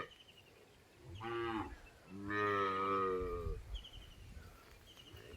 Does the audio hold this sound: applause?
no